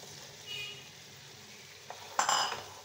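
Okra dropped into hot oil in a pan for masala bhindi, a sharp burst of sizzling and stirring clatter near the end after a quieter low frying hiss.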